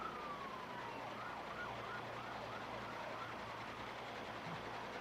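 Faint sirens from fire tanker trucks in a Christmas parade in Rochester wail in the distance over a low, steady rumble of background noise, with no talking.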